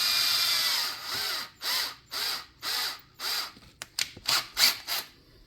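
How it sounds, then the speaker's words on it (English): Cordless drill twisting wire for HO scale model trees, whirring in a series of short bursts, each starting and stopping with a rising and falling whine, close and loud, no talking. "take your cordless drill, and you chuck your wire into it"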